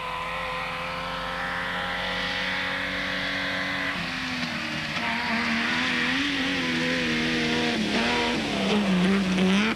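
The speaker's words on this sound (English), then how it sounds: "Foster and Oosthuizen were still on their remarkable comeback trail in the Nissan Safari" A Nissan Safari rally car roars past at high speed on grassy hills, engine revving hard with rising and falling pitch and some tire noise, loud and continuous.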